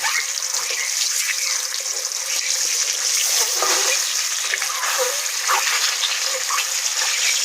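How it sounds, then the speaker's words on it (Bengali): Boiled eggs fry in hot oil in a pan, giving a steady, dense sizzle and crackle that runs unbroken throughout, close and fairly loud with no talk. "সিদ্ধ করে রাখা ডিমগুলো একে একে দিয়ে দেবো। উল্টিয়ে পাল্টে ভালো করে লাল লাল করে ভেজে নেব।"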